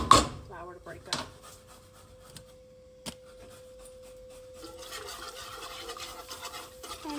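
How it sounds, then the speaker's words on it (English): A whisk scrapes and swirls flour into broccoli cheese soup in a non-stick pot, a soft, steady rubbing texture with a few light knocks, faint and close, over a low constant hum. "You do have to whisk this a little bit to get the flour to break up."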